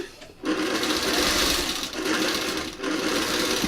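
A sewing machine stitches fabric in steady, buzzing runs, loud and close, with two short pauses where the pedal eases off and then picks up again.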